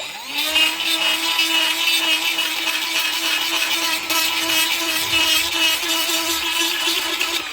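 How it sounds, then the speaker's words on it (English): A die grinder works inside a rusty brake caliper on a barn-find Ford XR2, giving a continuous high, close whine that holds steady throughout with no talk. "we're going to use this die grinder. We'll just go right inside of that"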